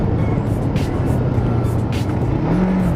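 A lightweight Kawasaki Ninja 500R motorcycle runs on the road, a steady engine drone mixed with wind rush, with a brief pitch rise near the end.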